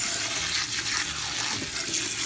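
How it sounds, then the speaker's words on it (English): Water pours steadily into a container holding cut-up cactus pieces, a continuous broadband rush without pause and with no voices. "Getting ready to add my water to my cactus."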